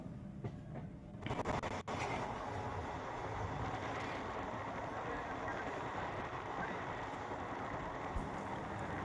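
Passenger train rolling on the rails on a rainy Bangalore to Mumbai journey, heard from inside as a steady rumble that grows fuller after a brief thump, continuous and moderately loud.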